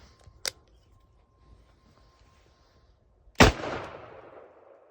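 A single loud, sharp shot from a handgun firing full-house .44 Magnum ammunition, ringing out and decaying over about a second and a half after a quieter earlier click, with no talk.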